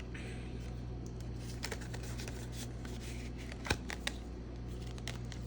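Paper cash bills being handled and slipped into budgeting envelopes, giving a soft, continuous rustle and shuffle with a few sharper crinkles, close by and quiet, with no talking.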